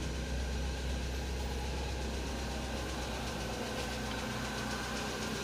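A Nissan X-Trail engine idles at normal RPM in a steady, continuous low rumble with a faint vibrating hum and no noticeable changes.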